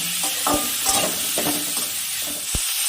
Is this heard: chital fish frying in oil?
yes